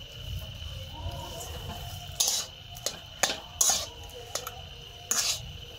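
Utensil clinking and scraping against a pan while cooking and stirring mashed potato filling, with several sharp metallic taps over a low background hum.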